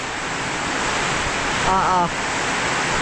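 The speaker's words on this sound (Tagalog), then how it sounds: "yan na po ang ulan, oh. Biglang buhos." A heavy downpour roars as a dense, steady rush of rain close by, with a voice speaking briefly over it midway.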